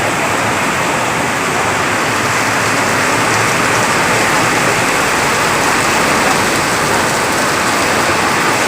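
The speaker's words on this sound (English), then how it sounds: "A lot of rain." Heavy outdoor rain, a loud, dense, continuous hiss of falling water that holds steady throughout without pause.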